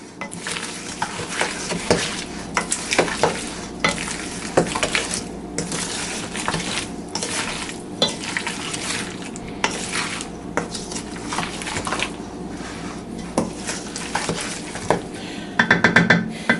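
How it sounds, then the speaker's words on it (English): Potato salad mixed with pepper in a bowl, a continuous close scraping and stirring with frequent clinks of a utensil against the bowl, steady and fairly loud throughout. "We'll add some pepper as well. We'll mix that up just a little bit."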